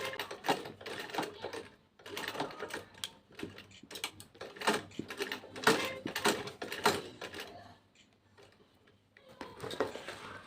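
Sewing machine back stitching along the flap of a handmade bag, giving bursts of rapid mechanical stitching with short pauses and a brief quieter stretch near the end, fairly close and with no talking.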